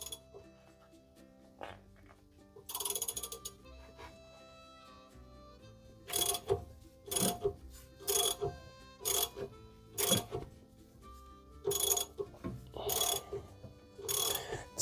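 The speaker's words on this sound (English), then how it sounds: "we're gonna get a 3/4 inch socket on our ratchet" A ratchet fitted with a 3/4 inch socket tightens a harmonic balancer puller on a 1997 Jeep Grand Cherokee ZJ 5.2L V8. It gives repeated bursts of rapid clicking, with quiet mechanical pauses between the strokes.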